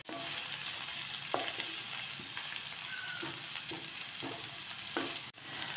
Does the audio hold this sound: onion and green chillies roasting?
yes